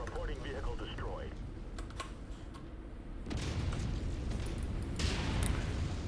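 Quick clicks of someone typing on a computer keyboard while playing MechWarrior 5, set against loud game explosions and rumbling artillery, with speech over it.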